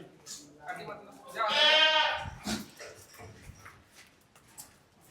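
Full-blood African Boer goats bleat on a farm in Maharashtra: one loud, drawn-out bleat stands out near the middle, with fainter animal calls and quiet people talking around it.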